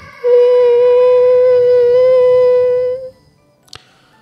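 A voice imitates a long, cat-like cry: one steady, drawn-out wail for about three seconds, then silence and a brief click.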